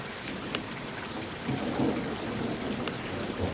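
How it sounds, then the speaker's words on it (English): Steady rain pours during a thunderstorm outside a porch with potted plants, a soft even hiss with a low rumble of thunder swelling in the middle. "we're about to get another storm"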